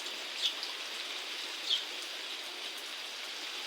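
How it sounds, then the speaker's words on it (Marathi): Heavy first monsoon rain in a stormy downpour hisses as a steady dense wash, with a couple of slightly louder splashes standing out early on. "आज फायनली भरपूर पाऊस आलाय"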